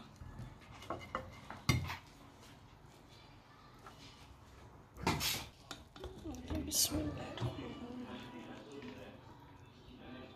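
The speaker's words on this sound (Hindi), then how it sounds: "मैं इसे डिश आउट करती हूँ" Sweet rice zarda is dished out onto a serving dish in a home kitchen, with scattered clinks and scrapes of a spoon against cookware under ongoing talk.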